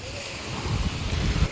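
Rough sea waves breaking at Side, Turkey, in May, with a low, steady surging roar and wind buffeting close to the microphone.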